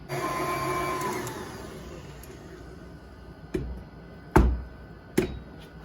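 A stand mixer with a dough hook whirs steadily through bagel dough, its motor fading after a few seconds, followed by three sharp knocks or thumps.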